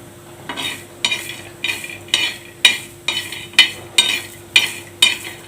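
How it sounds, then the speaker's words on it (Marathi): Garlic cloves are stirred on a very hot iron griddle (tava). Sharp, rhythmic scraping strokes come about every half second, roughly ten in a row, close and clear with no talk. "हलवून घ्यायचं आहे फक्त वरची साल अशी गरम झाली पाहिजे त्या पद्धतीने गरम करून घ्यायची आहे"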